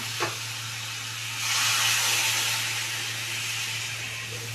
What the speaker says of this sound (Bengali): মশলাটাকে আমি ভালোভাবে কষে নিয়েছি। এবার আমি জল দিয়ে দেবো।